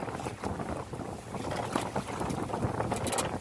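Steady, blustery Amihan monsoon wind roaring across the microphone, with gusty surges and a rough rushing texture throughout, no voices.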